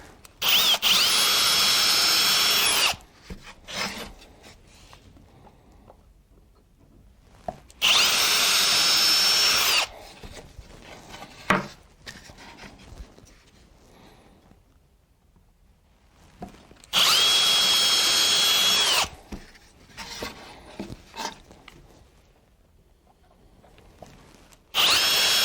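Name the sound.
power drill drilling holes in wood sign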